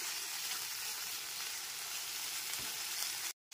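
Fried potatoes sautéing in a pan, a steady close hiss of sizzling oil with one faint stir, cutting off abruptly near the end.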